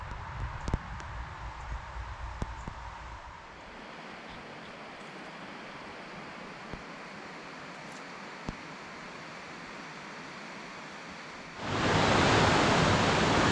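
Step Falls tumbles in a series of cascades and pools along White Brook in Grafton Notch State Park. A steady rushing roar fills the scene, with a few clicks early on and a sudden louder surge near the end.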